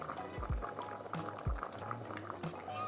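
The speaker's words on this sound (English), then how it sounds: "let that boil in there for about 2 to 3 minutes" Winter green minestrone with brassica leaves boils in a pot, with soft continuous bubbling and a few low gurgling pops, faint and close, with no talking.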